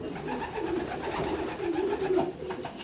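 Young racing pigeons in a loft coo in low, steady, overlapping murmurs, continuous and fairly close, with soft rustling and no talking.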